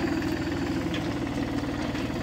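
Tractor engine bringing a mobile irrigation system, a steady loud rumbling drone with a rapid low pulsing throb, close and continuous throughout.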